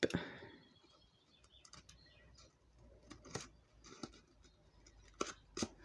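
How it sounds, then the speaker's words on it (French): Scissors snipping a loose thread off bookbinding cloth, faint close clicks scattered over several quiet seconds, with a couple of sharper snips near the end and no voices. "Il y a juste ici un petit peu de fil, mais on va le couper."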